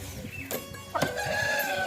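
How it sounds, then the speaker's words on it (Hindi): A rooster among farm fowl, crowing and clucking at close range, with short sharp calls and a sustained crow rising near the end, no voices over it. "मुर्गा है ये"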